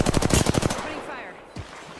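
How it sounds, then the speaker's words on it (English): Rapid automatic gunfire in the Apex Legends battle royale game, a loud close burst of evenly spaced shots that cuts off, followed by a low thud and a brief trailing sound. "Opening fire."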